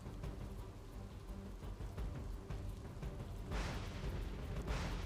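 Heavy rain pours down across Surat's Katargam, Amroli and Varachha areas, a dense, continuous hiss that swells louder toward the end, with no voices.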